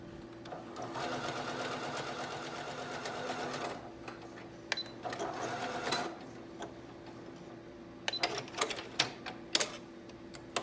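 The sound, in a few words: sewing machine straight stitch on coat sleeve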